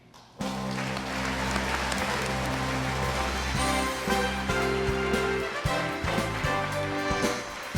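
A large crowd at an awards ceremony applauds steadily, a dense sustained clatter of many hands clapping throughout, loud and continuous.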